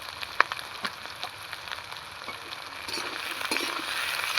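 Two capsicums frying in a pan for a snakehead fish chilli, giving a steady soft sizzle and crackle with a few sharper pops, fairly close and heard alone.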